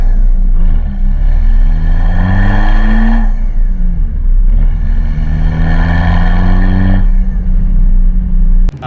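A VW MK4 Jetta ALH TDI wagon diesel fitted with bigger injectors revs up twice, each rising throaty roar climbing then dropping back to a low idle rumble, loud and close.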